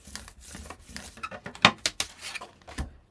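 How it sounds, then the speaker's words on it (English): Paper being burnished with a bone folder, soft scraping and rubbing strokes with light taps and clicks, close and quiet. "I'll just use my bone folder and burnish"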